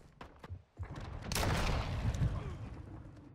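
Gunfire in Call of Duty MW2 gun game mode with a Victus sniper rifle, a few scattered sharp shots followed by a loud, sustained burst of firing and booms.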